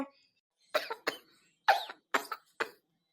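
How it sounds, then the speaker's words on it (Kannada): A baby coughs close by in a quiet room, in five short, dry bursts grouped in quick pairs with brief pauses between them. "ನೋಡಮ್ಮ ಕೆಮ್ತಾ ಇರೋದು ಮುಗುವ"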